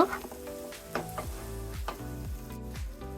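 Broad beans sautéing in hot spiced oil for a boal fish curry sizzle loudly and close, with repeated scraping stirs of the spatula through the pan.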